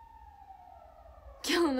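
A faint, distant police siren wails with a slowly falling tone, then a close voice cuts in at the end.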